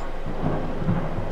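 Thunder in the horror video game Escape the Ayuwoki: a loud, continuous low rumble with rain-like hiss, rolling steadily with no voices over it.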